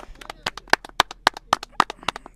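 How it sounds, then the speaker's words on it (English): A small group of podcast guests claps in a quick, fairly regular rhythm, around a dozen sharp, close claps. "Go on then, let's have a clap"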